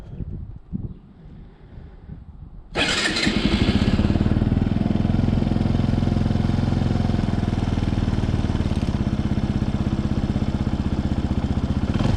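Benelli TNT 125 motorcycle engine firing up after an oil and filter change, a short cranking rustle then a loud, steady close idle with an even rattling pulse.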